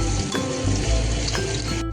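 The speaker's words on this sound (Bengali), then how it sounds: "পেঁয়াজটা ভাজা ভাজা হয়ে এসছে" Chopped onion sizzling in hot oil with dry red chili and whole garam masala, a loud, close, continuous frying crackle with light stirring, no voices.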